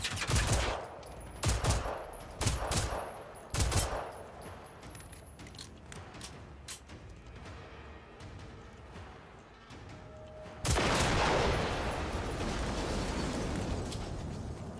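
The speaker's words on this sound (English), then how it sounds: "That was a big explosion." Explosion in the video game Generation Zero: a series of loud broadband blasts and bursts early on, then a sustained roaring rumble of fire and debris after a final big blast.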